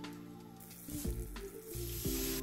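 A roux of oil and flour sizzles steadily in a pan, then broth is poured in, bringing louder bubbling hisses in two surges, close and alone with no talking.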